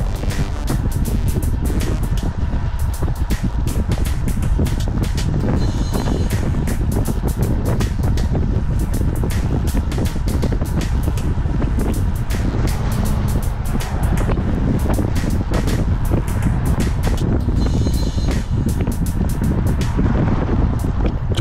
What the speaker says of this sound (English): The wind is everywhere.